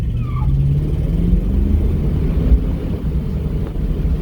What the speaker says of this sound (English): Now it'll spin the tires on blacktop.